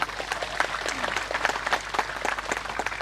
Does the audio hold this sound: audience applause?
yes